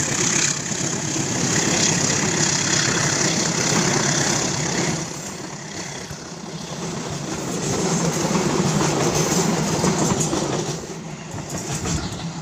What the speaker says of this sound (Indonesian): Ini dia, kereta api Kuto Jaya Selatan, melintas.